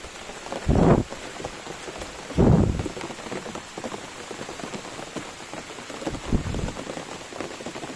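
Heavy rain pours steadily through a forest during a typhoon, a dense hiss broken by three loud, low rumbling bursts.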